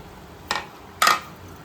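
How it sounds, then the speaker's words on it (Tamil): Fish pieces go into a pot of simmering fish kuzhambu, making two short clattering splashes about half a second apart, close and fairly loud with no talking. "இப்போ வந்து இந்த ஸ்டேஜில் நம்ம எடுத்து வச்சிருக்கிற மீன் எல்லாம் போட்டுடலாம்"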